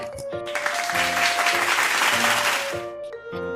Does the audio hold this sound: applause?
yes